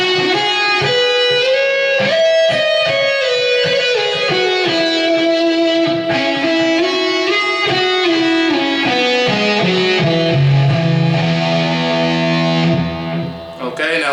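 A distorted electric guitar plays a slow, melodic lead line, notes bending and sliding one after another, loud and close, ending on a low held note.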